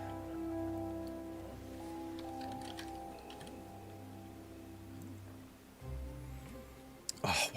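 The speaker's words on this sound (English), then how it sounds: "Oh, it's raining here." Rain falls steadily in the video game Final Fantasy XIV, a soft continuous patter under sustained game music and tonal drones, with a brief louder burst near the end.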